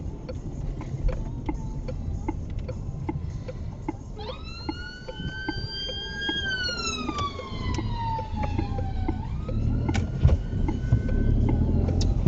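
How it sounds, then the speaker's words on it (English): A UK ambulance siren on an emergency call wails in from a distance, heard from inside a car, its rising and falling tone sweeping clearly over background traffic rumble and occasional sharp clicks. "it's an ambulance responding to a 999 call"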